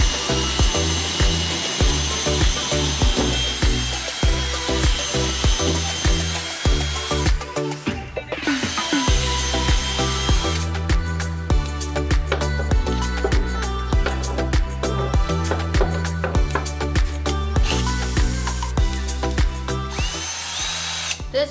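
A power drill fitted with a corn cutter strips kernels off fresh corn cobs for canning, running as a loud continuous whir with brief pauses and changes in pitch as each cob is worked.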